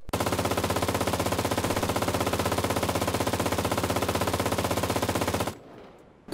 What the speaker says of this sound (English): These bunkers are equipped with MG42s that, well, kinda speak for themselves.